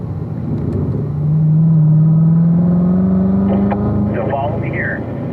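A race car drives the Spring Mountain East track, its engine a loud, steady droning rumble that climbs in pitch as the throttle opens, with a man coaching the driver over the engine noise.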